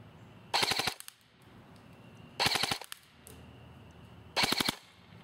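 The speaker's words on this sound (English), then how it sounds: "let's put it on full auto and see what we can do with that." Ares M4A1 airsoft rifle on full auto, powered by an 8.4 volt battery, ripping off three short rapid bursts spaced about two seconds apart, loud and close with quiet gaps between.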